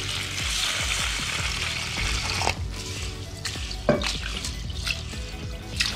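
Rice, about one and a half glasses, swished and rubbed in water in a bowl for an Ari Unda snack, giving a steady close wet rustle with a few sharper clinks and splashes.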